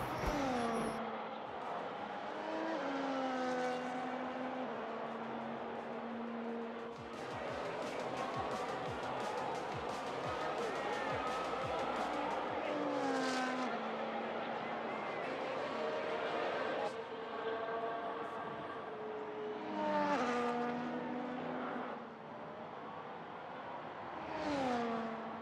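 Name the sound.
race cars on the last lap, from a racing video game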